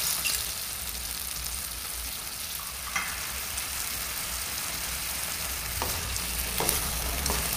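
Long beans and egg stir-fry in a hot pan, a steady, close, quiet sizzle broken by a few sharp clicks and scrapes of stirring.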